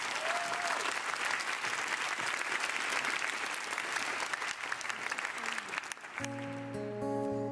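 A festival audience at Gare Maritime gives warm, sustained applause, dense and steady for several seconds before it fades and music begins.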